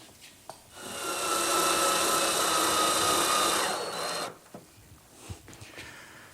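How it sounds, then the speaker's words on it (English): A power driver runs temporary screws into a wooden cabinet face frame in a workshop. One steady, close, buzzing burst lasts a few seconds, followed by faint clicks and handling noises. "Now I'm just going to use some temporary screws to hold this in place so I can finish the face frame on this center unit."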